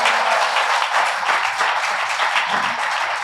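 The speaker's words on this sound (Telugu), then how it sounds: "చప్పట్లు కొట్టండి గట్టిగా" Church congregation at a Sunday worship service in Narasaraopet clapping loudly together, a dense, steady wash of many hands sustained throughout without a break.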